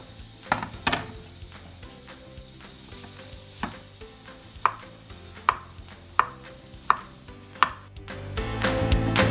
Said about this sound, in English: Okay, so now we have the mushrooms on. I add a pinch of salt, and we have the sausages cooking.